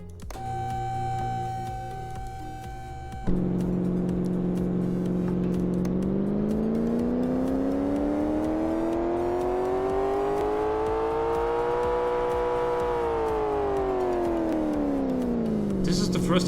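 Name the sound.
engine revving in Car Mechanic Simulator 2015 video game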